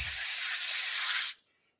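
A voice imitating bear spray accidentally discharging after snagging on a branch in brushy woods, a loud steady hiss lasting over a second before cutting off abruptly into silence.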